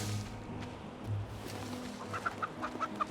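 A chicken in the survival game Len's Island clucks in short repeated notes, faint against a steady background hum of game ambience, with a quick run of clucks near the end.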